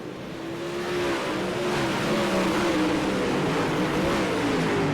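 Super late model race cars roar steadily around the dirt oval at Lernerville, a continuous loud engine drone with rising and falling pitch as cars pass through the pack.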